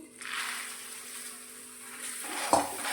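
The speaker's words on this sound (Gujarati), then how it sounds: "હવે સારી રીતે મિક્સ કરી અને ધીમા ગેસની ફ્લેમ પર આપણે મમરા અને ધાણી એકદમ સરસ એવા ક્રિસ્પી થાય ત્યાં સુધી તેને આ રીતે શેકીશું" Puffed sorghum and puffed rice being stirred and roasted in a pan over a low flame, a soft, continuous rustling scrape with a faint steady hum and a brief metallic clink near the end.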